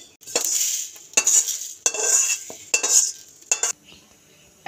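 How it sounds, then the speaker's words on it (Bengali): Dry-roasted spices tipped out of a kadai with several bursts of scraping and rattling against the metal, close and fairly loud, separated by short pauses. "আমি কড়াই থেকে ঢেলে নেব।"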